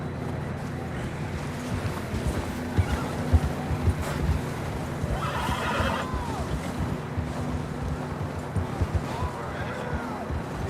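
Horses whinny and neigh in the Red Dead Redemption 2 video game, with a short bright whinny midway and another near the end, over steady wind and movement noise, no talk.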